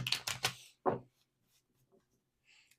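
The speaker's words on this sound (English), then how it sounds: "As I'm shuffling the tarot" Tarot cards being shuffled, a few quick crisp riffles close by, then one short snap, with near silence after.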